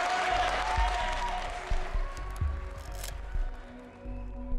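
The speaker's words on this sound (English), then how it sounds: "Those in support applauded." Scattered applause from supporters in a city council chamber in Arvin after an oil and gas vote, moderate and uneven with a few sharper claps and low room rumble, fading slightly toward the end.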